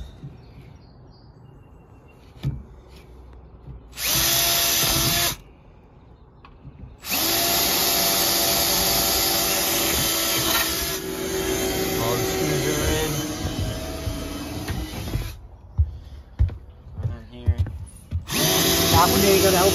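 A power drill whirs in several bursts, some long and steady, others short, with hum and people talking intermittently nearby.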